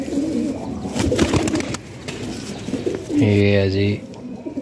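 Fancy pigeons offered for sale coo in a low, rumbling burst close by, following someone talking over background bustle.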